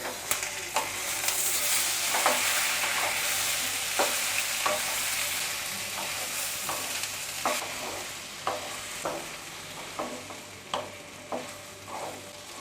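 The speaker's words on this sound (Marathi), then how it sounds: "हे आलं लसूण, हिरवी मिरची आणि त्यानंतर हे टॅमॅटो. आता हे सुद्धा आपल्याला मऊसर परतून घ्यायचं आहे." Ginger, garlic, green chili and tomato sautéing in a pan for chana masala, a steady sizzle broken by repeated scraping stirs that come in an irregular rhythm, close and moderately loud with no voices.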